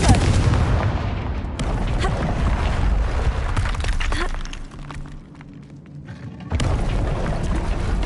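Fire spell blasts in the Hogwarts Legacy video game: a loud booming explosion followed by crackling, rumbling debris, a quieter lull, then another burst of blast noise near the end.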